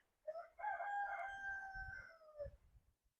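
A single hen call rings out close by, a drawn-out crowing cry lasting a couple of seconds, followed by a faint shuffle.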